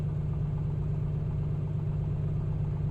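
A Piper Comanche's piston aircraft engine idling near 1,000 RPM in the A2A flight simulator, a steady low droning hum with even vibration, close and constant throughout with no voices.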